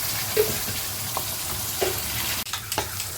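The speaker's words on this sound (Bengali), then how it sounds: "ফাইনালি দেখো মশলাটা বেশ কষে এসছে হালকা তেলও ছেড়েছে" Spice masala frying in oil until the oil separates, for prawn-stuffed potol dorma: a continuous close sizzle with a few light stirring clicks and a sharp spoon knock near the end.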